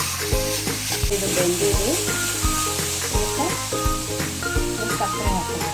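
Grated carrots for gajar ka halwa sizzle and fry in a pan, stirred with repeated scraping knocks of a spoon, while a voice speaks over the cooking.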